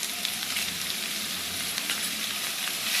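Capsicum sautéing in a pan over a low flame, an even, continuous sizzle heard up close with faint soft stirring touches and no voices.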